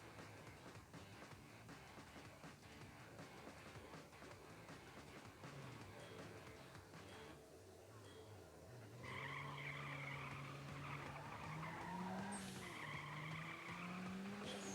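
Race car engine drone and tire skids in the Nitro Nation racing video game, a steady faint engine tone with rising pitch sweeps and squealing tires running throughout.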